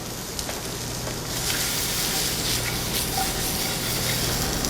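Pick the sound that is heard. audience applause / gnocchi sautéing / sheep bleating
gnocchi sautéing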